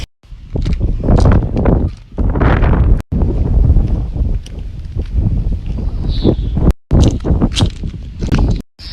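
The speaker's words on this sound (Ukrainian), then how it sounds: "Є трохи вітер, але він дуже теплий" Gusty wind buffets the microphone in loud, rumbling bursts, cutting out abruptly a few times between gusts.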